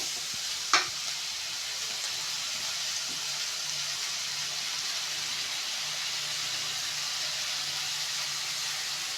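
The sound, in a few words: stirring dried fish curry with a ladle in the pan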